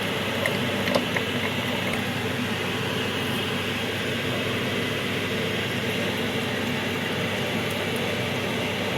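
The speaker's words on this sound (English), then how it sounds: "You can see it's kind of bubbling and boiling." A hydroxide reaction mixture heats up and bubbles and boils inside glassware while colloidal metals are made chemically; a steady, even fizzing hiss runs throughout with no talking.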